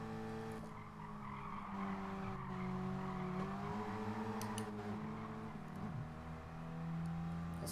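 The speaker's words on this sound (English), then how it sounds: "This car sounds so much different." A race car in Gran Turismo Sport holds a sustained engine note that rises and falls through gear changes, with tire squeal mixed in and brief sharp transients; heard alone at low level.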